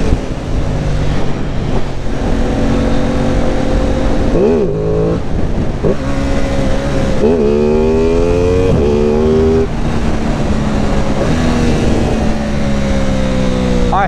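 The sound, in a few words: Aprilia Tuono 660 motorcycle engine revving while riding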